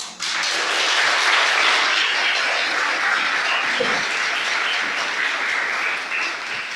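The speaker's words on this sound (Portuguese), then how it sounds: "Vamos aplaudir o Senhor." A church congregation applauds during a worship meeting, breaking into a sudden, full wash of continuous clapping that holds evenly loud for several seconds and eases slightly at the end.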